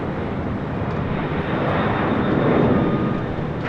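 An airliner takes off from runway 25 right at LAX, its jet engines a steady, loud roar that swells slightly as it rolls down the runway.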